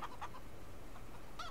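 Chickens in the Farming Simulator 22 video game give a few faint, brief clucks near the start and again near the end over a steady, quiet background.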